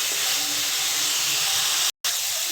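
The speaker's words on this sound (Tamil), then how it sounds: "இன்னும் கொஞ்சம் நேரம் வதக்கலாம்" Chopped ridge gourd sautéing in a pan for chutney, a steady sizzling hiss that runs throughout at moderate level, broken by a brief silent gap near the end.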